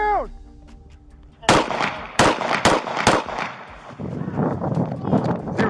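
Several loud, sharp gunshots fired during a police arrest, a quick burst of close bangs in rapid succession followed by tense activity, with voices present around them.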